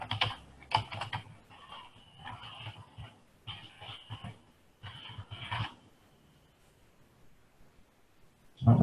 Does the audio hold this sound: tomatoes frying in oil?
no